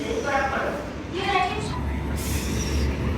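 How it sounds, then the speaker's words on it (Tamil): The Cheran Express arrives at a station with a continuous low rumble of rolling wheels and carriages, and some faint squeal rises over it. Someone talks over the train noise throughout. "நம்ம சேரன் எக்ஸ்பிரஸ் இப்போ தாங்க வந்தார்"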